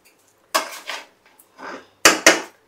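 Basmati rice biryani being stirred in a pan, giving four separate scraping clinks of a utensil against the metal, two early and two close together at the end, near and fairly loud.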